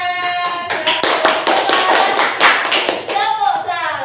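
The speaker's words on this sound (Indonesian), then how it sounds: "Kita beri tepuk tangan." Children and a teacher clap hands together in an elementary school classroom, a dense burst of close, sharp claps running the full few seconds, with voices talking and calling over it.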